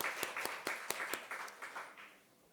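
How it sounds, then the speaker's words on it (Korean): Brief burst of congregation applause at a Sunday church service, with sharp claps ringing out in a room that thins out and fades after about two seconds; no one speaks. "우리 서로를 축복하는 박수 하겠습니다."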